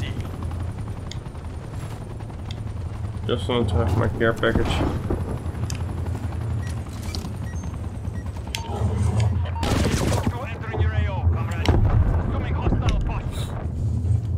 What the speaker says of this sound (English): So we got another chopper.